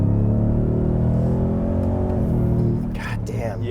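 A 2023 Ford Raptor R with a supercharged V8 accelerates hard, its deep, loud engine roar holding steady before easing off near the end as a voice briefly speaks.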